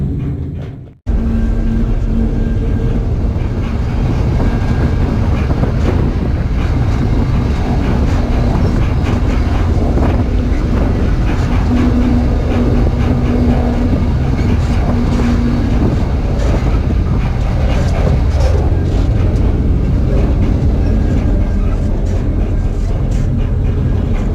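Steady rumble and rolling noise from aboard a BNSF freight train on the Fallbridge Subdivision between Pasco and Portland, loud and continuous with wheel clatter, beginning after a brief silence and running throughout.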